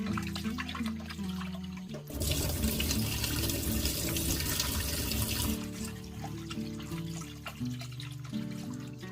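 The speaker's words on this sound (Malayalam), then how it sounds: "അപ്പോൾ ഞാൻ ലിവർ നന്നായിട്ട് കഴുകിയെടുക്കട്ടെ കേട്ടോ" Tap water runs over raw liver being washed in a kitchen, a steady splashing stream that swells louder in the middle as the flow hits the meat, with a faint tonal hum underneath.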